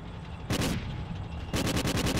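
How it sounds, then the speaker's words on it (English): A 30 millimeter cannon fires in the video game Call of Duty: Ghosts as two loud bursts of rapid shots: a short burst first, then a longer rattling volley about a second later. "I got a 30 millimeter cannon, I guess."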